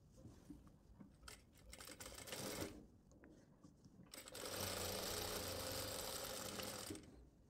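Sewing machine stitching the placket (patti) of a kurta in a boutique, with short runs of rapid mechanical clatter early on, then a loud, sustained stretch of steady stitching near the end.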